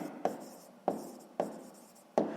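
Pen writing a sixth-grade maths solution on paper, four soft close scratchy strokes at a steady pace, each starting with a light tap.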